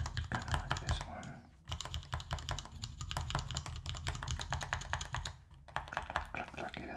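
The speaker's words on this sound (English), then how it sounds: "Clack, clack, it has a clack sound to it." Fast typing on a mechanical keyboard gives dense, crisp clacking keystrokes up close, in bursts with a brief pause between them.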